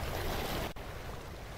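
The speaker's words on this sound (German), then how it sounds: "Ich mach ein bisschen leiser, weil die Wellen sind schon sehr laut." Crashing ocean waves in the climbing video game A Difficult Game About Climbing, a loud, steady wash of surf with a brief sharp click midway and no voices.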